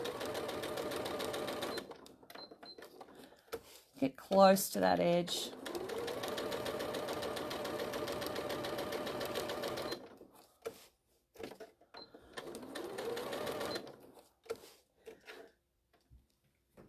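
A sewing machine stitching crazy patchwork runs in a steady, close mechanical whir for several seconds, stops, then restarts in shorter runs, with someone talking over it at times.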